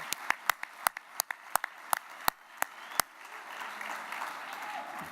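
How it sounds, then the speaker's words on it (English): An audience at the Rammys 2016 awards gala for restaurant workers starts with a few loud, separate claps that swell into sustained, dense applause filling the room. "Give yourselves a round of applause for the good work that you do"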